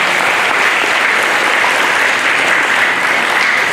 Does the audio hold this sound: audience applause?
yes